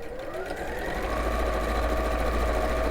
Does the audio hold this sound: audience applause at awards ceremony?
no